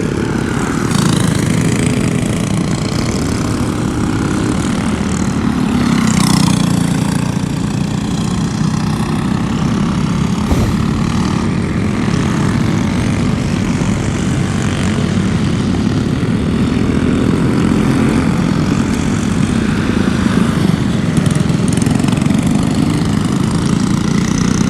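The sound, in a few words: racing karts at Orlando Kart Center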